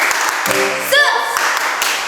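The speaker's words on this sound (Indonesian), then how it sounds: "Tepuk Yesus dulu yuk" A group of children claps in quick bursts, mixed with chanting voices that rise and fall over a short, lively moment.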